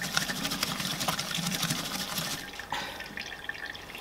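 Running water splashes steadily as big makeup brushes are rinsed under a tap, a close, continuous hiss with a brief dip and surge partway through, no voices.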